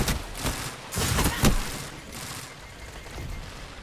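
Gunfire in the multiplayer Crucible mode of the video game Destiny 2, including a Vigilance Wing pulse rifle: dense overlapping shots in rapid bursts with a heavy rumble, loud for the first half, then fading into a duller wash.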